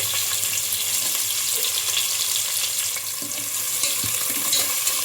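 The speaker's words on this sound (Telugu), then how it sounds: "ఈ ఉల్లిపాయ ముక్కలు గోల్డెన్ కలర్ వచ్చే వరకు అయితే బాగా ఫ్రై చేసుకోవాలి" Sliced onions fry with bay leaves, cloves and cumin in hot oil, giving a steady, dense sizzle close by that holds throughout with small stirring scrapes and no talking.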